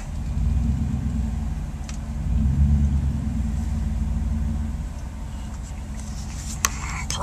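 A truck engine rumbles at low idle and creeps along as it is pulled into a garage, a steady close drone with a slight swell midway and a faint click near the end.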